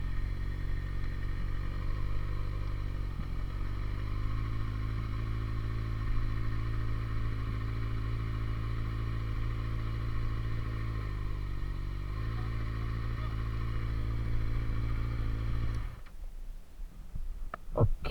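Kawasaki Ninja ZX6R 636 sport bike on the road, its engine holding a steady loud hum with brief rev changes, then cutting away near the end to clicks and clatter, no talk.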